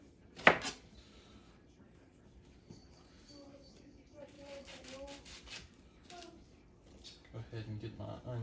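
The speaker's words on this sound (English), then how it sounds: "Go ahead and get my onion diced up." A knife dicing an onion on a cutting board, with a sharp chop near the start followed by quieter, irregular cutting and scraping, and a voice talking between the cuts.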